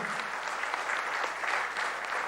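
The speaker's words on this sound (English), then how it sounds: "Ladies and gentlemen, can I have a round of applause for Mr. D. Shivanandan?" An audience in a hotel hall at a bravery awards ceremony claps in a dense, even round of applause, heard at moderate distance.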